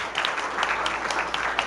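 A conference audience claps for a speaker, a brief burst of moderately loud, scattered applause with individual claps standing out and no voices.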